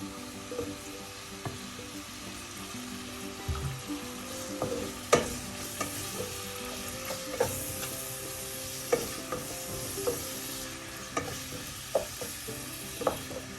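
Sliced ingredients for a coconut-based Ayala (mackerel) fish curry sauté with salt in a pan, sizzling steadily while a spoon scrapes and clacks against the pan in irregular strokes, close and without talk.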